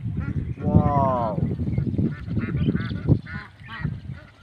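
White Belgian ducks on a farm pond give loud, honking quacks in a few bursts, close by, with a person talking over and between the calls.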